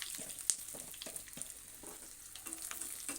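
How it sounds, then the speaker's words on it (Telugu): Cumin, mustard seeds, garlic cloves and curry leaves crackle and sizzle in hot oil for a gonguura flower chutney, a steady close frying hiss with scattered sharp pops and faint stirring. "కాస్తంత జీలకర్ర వేసుకుందాము ఆవాలు వేసుకుందాము సరిపడా అలాగే కొన్ని వెల్లుల్లి రిబ్బలు కరివేపాకు వేసుకుందాం"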